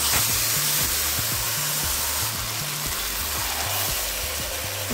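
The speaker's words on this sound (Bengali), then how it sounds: "এবার দিয়ে দিচ্ছি চিকেনটা।" Steady, loud sizzling of chicken dropped into a pan of frying onions, with oil crackling continuously and faint stirring knocks underneath, no voices.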